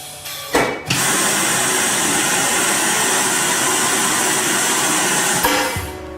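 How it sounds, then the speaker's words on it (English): PIAB vacuum conveyor pump on a vacuum feeder starting up: a few thumps and a pop, then a loud steady rushing hiss of air that holds for several seconds, another pulse near the end as it winds down. "So you can hear the pump starts."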